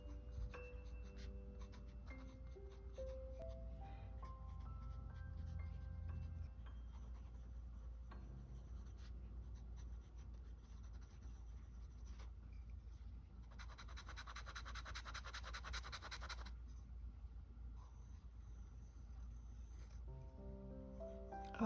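A dip pen loaded with Robert Oster brown fountain pen ink scratches across paper in a faint, close, continuous rasp, sitting under a quiet backdrop of soft music.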